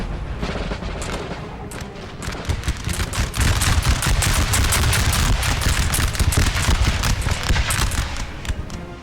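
Dense musket volleys crackle and pop continuously in a Napoleon: Total War battle, with overlapping shots building into a steady loud fusillade throughout, no talking.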